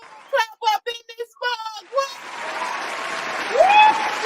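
A crowd gives a round of applause for a guest named Trey D at the close of a live show, a diffuse wash of clapping that follows a brief stretch of speech and continues to the end.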